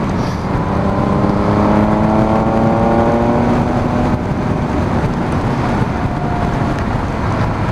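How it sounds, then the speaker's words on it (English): A Triumph Speed Triple RS naked muscle bike rides through awful weather, its engine droning as it pulls up through the revs under heavy, steady wind roar. "What a day for testing a full naked muscle bike like this."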